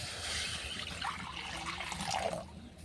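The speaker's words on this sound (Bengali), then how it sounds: "কড়াইয়ের মধ্যে দিয়ে দিব জল" Water is poured into a wok over a lit stove, a soft continuous splashing trickle that swells slightly near the end, fairly faint against a low room background.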